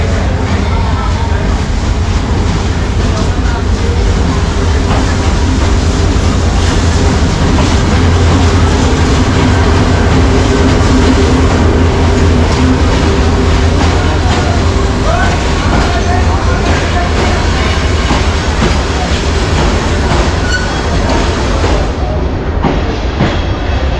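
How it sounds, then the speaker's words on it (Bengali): A train pulls in to platform 1 at a station in Sreemangal, a loud continuous rumble of wheels and carriages with rhythmic rail clatter lasting the whole time, and faint voices beneath. "1 নম্বর প্ল্যাটফর্মে আসতেছে ট্রেন, চলে আসছে।"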